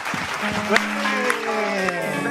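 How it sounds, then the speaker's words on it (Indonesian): A studio audience at a comedy talk show claps in a dense, steady patter that runs under overlapping talk throughout. "Anda kenapa tepuk tangan?"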